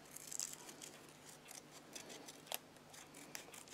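Scissors cut out a paper circle for the base of a paper poppy, a quiet close series of rhythmic snips and paper rustles with one sharper click.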